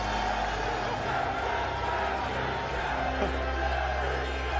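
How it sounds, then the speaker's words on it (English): A dense, steady roar of a crowd cheering wildly at a Yu-Gi-Oh YCS tournament in Indianapolis, 2023, sustained without a break and loud throughout. "the crowd goes insane"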